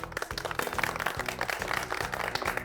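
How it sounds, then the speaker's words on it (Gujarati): Audience applause at a live comedy game show, lively crowd clapping with crisp individual claps over a steady rhythmic beat of music, fairly loud throughout. "તમારા બધા માટે જોરદાર તાળીઓ થઈ જાય."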